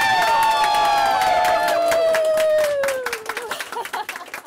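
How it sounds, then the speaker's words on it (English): Students in a classroom break into clapping and cheering, sharp claps spreading under a prominent held tone that slides downward, then scattered individual claps as the sound thins out toward the end. "the students understood what that meant and started clapping"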